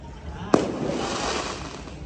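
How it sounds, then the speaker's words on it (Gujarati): A single sharp firecracker burst near the house, a loud crack followed by a hissing, crackling tail that fades slowly. "અમારા ઘર કેવા ફટાકડા ફૂટ્યા."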